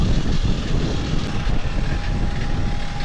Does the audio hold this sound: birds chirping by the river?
no